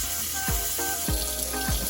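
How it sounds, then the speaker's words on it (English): Tap water runs into a kitchen sink over a pot of Jamaican oxtail to cool it, a steady close hiss with a few low knocks and gurgles. "we're gonna put it in the sink under running water and let the pot cool down"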